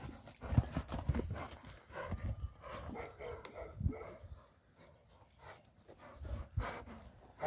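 A horse at a livestock market in Jalal-Abad, Kyrgyzstan, clip-clops with irregular hoof strikes on hard ground, close by, with a dog barking now and then in the background.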